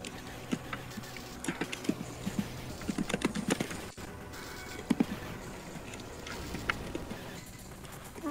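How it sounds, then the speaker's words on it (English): Fingers tap on a computer keyboard, irregular clusters of sharp, close clicks with brief pauses, faint game sounds beneath. "Tapping always sounds like crunching."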